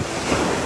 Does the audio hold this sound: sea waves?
yes